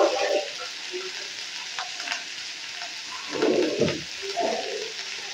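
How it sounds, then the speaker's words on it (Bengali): Boiled potato and flattened rice stirred and fried together in a pan for chire pulao, giving a gentle continuous sizzle with scraping spatula strokes coming in soft bursts, no talking. "সবকিছু একসঙ্গে কিন্তু আমি নেড়ে চেড়ে ভেজে নেব।"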